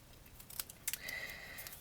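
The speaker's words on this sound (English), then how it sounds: "I'm just going to banner the ends with a pair of scissors" Pair of scissors snipping the ends of a paper sentiment strip, a few quiet crisp cuts and clicks in close, faint succession without talk.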